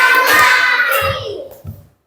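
Hands clap in a classroom counting game, a dense burst of many children's claps at once, loud and close, fading out after about a second and a half with a short final clap.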